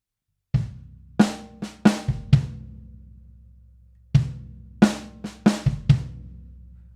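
Solo drum kit groove played at close range: bass drum hits on downbeats with sharp accented snare strikes and quieter ghosted snare notes between them, two short phrases separated by a brief gap, no talking.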